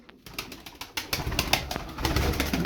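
A tumbler pigeon performs close by, with soft cooing calls and wing flutters over a rustling outdoor background. The sounds come in short irregular bursts with no clear speech.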